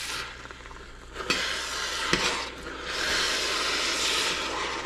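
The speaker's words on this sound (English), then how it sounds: "Okay, so just stir that around a little bit." Collard greens stirred in a hot pot, giving a continuous sizzle and hiss with a couple of sharp utensil scrapes and clicks, swelling louder toward the end.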